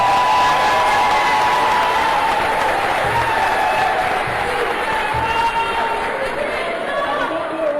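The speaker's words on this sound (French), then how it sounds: "je voudrais vous prier d'applaudir une fois de plus pour nos U17" An audience at a Cameroonian football awards ceremony applauds and cheers, a dense sustained wash of clapping from a large crowd that slowly thins toward the end, with some voices in the room.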